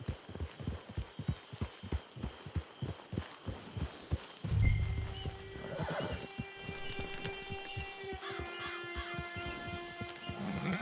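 In the Red Dead Online video game, a horse's hooves clip-clop in a steady trotting rhythm, followed by a loud, drawn-out whinny and then slower hoofbeats over a faint ambient background.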